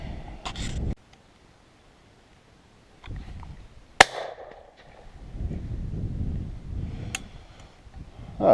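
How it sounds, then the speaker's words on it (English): A single shotgun shot at pigeons and crows outdoors, one sharp, loud crack standing out between quieter rustling and movement sounds. "First shot of the day, first one down."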